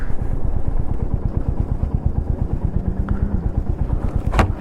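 A personal motorcycle with Punjab plates at the Khardung La checkpoint runs steadily close by, its engine putting out a continuous pulsing rumble for the whole stretch, with a brief sharper clatter near the end.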